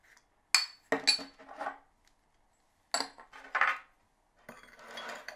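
A spoon clinks and scrapes against cups while stirring sugar into tea, several short bright bursts of ringing metal on china separated by silence, close and clear.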